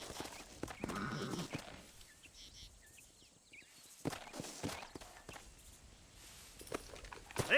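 In the Western video game Red Dead Redemption, horse hooves clip-clop in uneven bursts on the ground, with gaps of quiet between them and faint background sounds, fairly soft overall.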